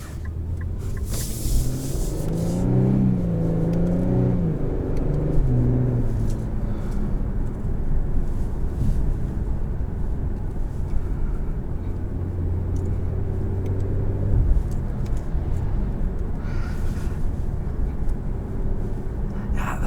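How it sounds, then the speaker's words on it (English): Steady engine drone, intake and exhaust noise with road rumble inside a moving 2021 Infiniti Q50 Red Sport sedan, with a few rising harmonic sweeps as the engine revs, continuous throughout with no talking. "You get a lot of intake noise in the cabin, but I just want that little bit louder exhaust note"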